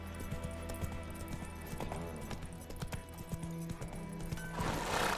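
Hooves of the horse Roach clopping in The Witcher 3: a steady rhythmic trot of close clip-clops with faint ambient sound, building to a louder burst at the end.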